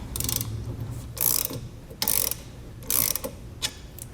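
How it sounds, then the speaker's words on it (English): A one-inch socket wrench ratchets a bolt off the end of a Hollywood Racks Roadrunner anti-sway knob. Four loud, close bursts of rapid ratchet clicking are broken by short pauses, with no talk. "what I did is I used an inch socket to take off that bolt"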